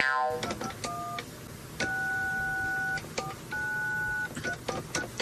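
Telephone keypad dialing tones ahead of a prank call: a run of short DTMF beeps, then two long steady dual tones broken by further quick key presses, clear and close with no talking.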